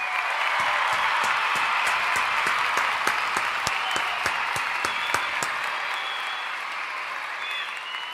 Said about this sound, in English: Another round of applause for Havili